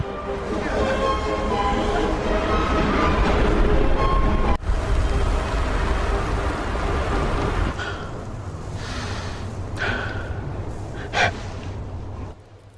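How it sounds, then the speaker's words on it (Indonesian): Heavy rain from a storm roars as a dense, constant wash of noise that carries some rumble. It eases abruptly about two-thirds of the way through into a quieter patter with a few scattered gusts. "tiba-tiba badai kembali datang"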